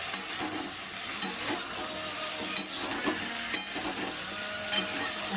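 Onion fries in oil with a soft continuous sizzle, punctuated by several clear taps and scrapes of a utensil against the pan.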